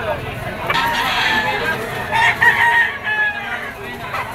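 Roosters crowing at a gamefowl auction market, several drawn-out crows rising over a constant crowd murmur and cluttered background noise.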